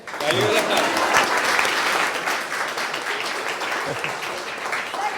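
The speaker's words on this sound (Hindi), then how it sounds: "ताली बजा रहे।" A live audience claps at a New Year poetry recital, dense and sustained applause that stays loud throughout, with a few brief voices under it.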